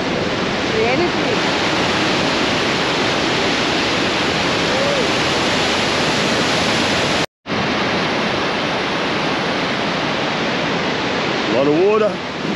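A waterfall at Joffrey Lakes, British Columbia, roars with loud, constant rushing noise, broken by one brief gap; faint voices and bird-like chirps briefly rise above it.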